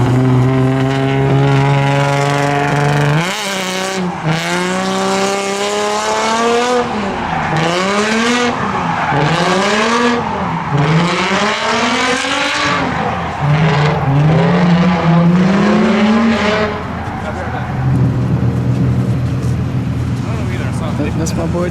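A Nissan G35 drifting at full throttle at a drift event, its engine revving hard in repeated rising and falling pulls with long tire squeals, loud and close.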